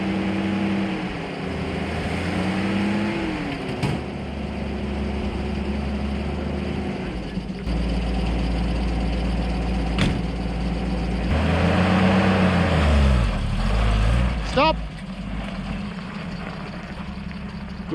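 Toyota FJ45 Land Cruiser engine idling with a low, steady rumble, rising in a few revs and falling back, while people talk nearby.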